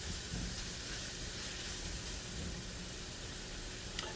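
Smithfield bacon frying in a pan while its fat renders out, giving a steady, close, even sizzle and hiss for the whole stretch with no voices.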